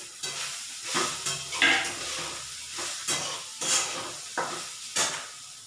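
Poppy seeds and grated fresh coconut roast in hot ghee in a pan, a steady sizzle broken by repeated scraping strokes of a spoon stirring every second or so, close and fairly loud.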